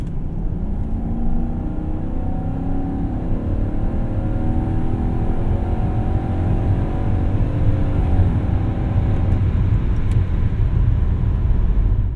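A 1998 BMW 740iL engine revs toward redline, a loud, sustained rising drone that climbs steadily over several seconds and then levels off, with no talk.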